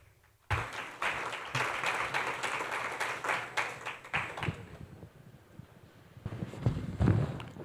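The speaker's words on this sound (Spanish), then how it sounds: "Para ellos, un fuerte aplauso." After a quiet start, a conference audience breaks into applause that holds for a few seconds, then thins and fades. A few scattered claps and some low handling noise follow near the end.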